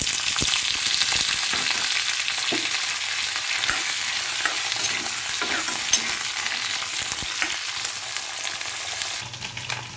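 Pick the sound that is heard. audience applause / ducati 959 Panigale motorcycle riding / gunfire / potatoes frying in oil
potatoes frying in oil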